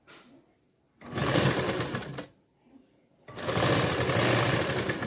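An electric sewing machine stitches blouse fabric in two steady whirring bursts separated by a short pause, close and fairly loud.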